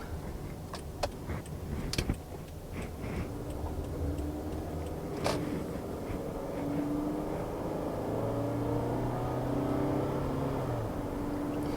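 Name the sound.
Toyota Camry driving on the road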